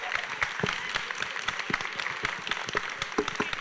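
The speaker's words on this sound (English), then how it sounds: "I think we should give a big round of applause for Gabriela that made all of this" Applause from the audience for Gabriela at a TEDEd club show in Torino, heard as a dense, steady patter of many hands clapping at moderate distance, fairly soft throughout.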